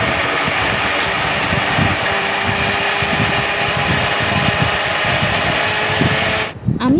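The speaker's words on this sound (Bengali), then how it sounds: "এরপরে আইসক্রিম দিয়ে ব্লেন্ড করে দিচ্ছি।" A blender whirring loudly and steadily as it blends watermelon juice with ice cream, a continuous motor drone with churning texture that cuts off abruptly near the end.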